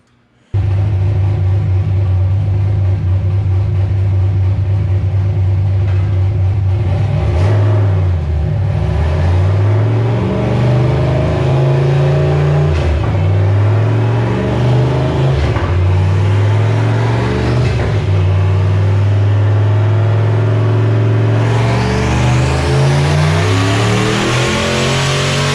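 A turbocharged Foxbody with a 363 stroker engine revving on a dyno toward 6,500 rpm, a loud, close, continuous engine roar that rises and dips in pitch through several pulls before a final climbing sweep with turbo whine.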